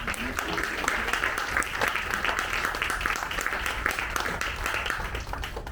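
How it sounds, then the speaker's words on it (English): An audience at the Rogers Memorial Library applauds a guitar player from a bluegrass band, giving steady, full clapping that runs throughout at a fairly strong, even level. "Let's have a round of applause for Mr."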